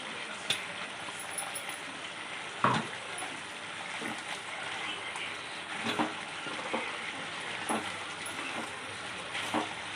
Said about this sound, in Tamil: இப்போ இதை வந்து அப்படியே கலந்துடலாம்